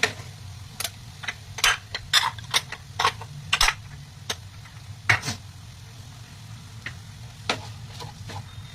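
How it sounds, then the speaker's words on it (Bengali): A spatula scrapes and knocks against a wok while stirring a chicken and cheese filling for bread chicken rolls, with irregular close clacks and scrapes over a low steady hum. "এটাকে আমি আবারও ভালো করে মিক্স করে নেব"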